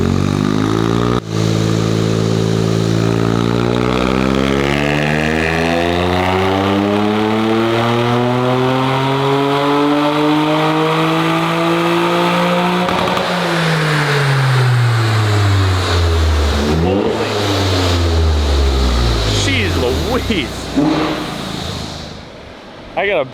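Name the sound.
Toyota GR Corolla engine revving with new downpipe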